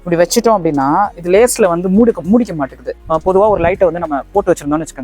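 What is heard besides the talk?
No distinct noise like a dog, phone or traffic.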